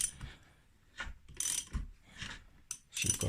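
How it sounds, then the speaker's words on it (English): A KX80/YZ80 motorcycle clutch basket turned by hand, giving a few separate mechanical clicking, ratcheting bursts with short pauses between, close and quiet, with no talk. "the clutch just turns like that"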